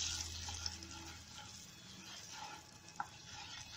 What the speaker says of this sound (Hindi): लाल मिर्च पाउडर डाल देंगे, हल्दी डाल देंगे, इसको अच्छे से मिक्स कर लेंगे।